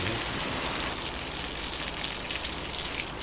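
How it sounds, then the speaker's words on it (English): Milk is stirred into a hot roux for béchamel sauce, producing a steady loud hiss and bubbling sizzle that carries on without a break. "Keep on moving it, stirring it into the roux."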